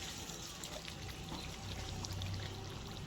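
Ghee is poured into a pot of fish head muri ghonto made with rohu fish head and flattened rice, a faint, soft trickle over a low cooking hiss.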